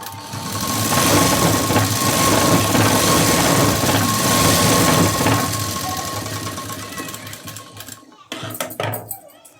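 A sewing machine runs steadily for about eight seconds, sewing a double line of stitching on a garment, loud and continuous with a fast mechanical whir, then stops and gives way to cloth handling and brief faint sounds.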